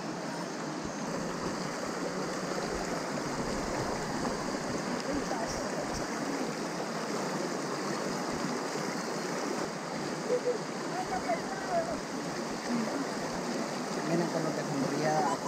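The swollen Guayllabamba river rushes in a dense, continuous broadband wash of flowing water, steady and fairly close, with faint speech barely present.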